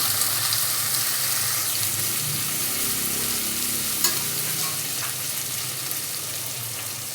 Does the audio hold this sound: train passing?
no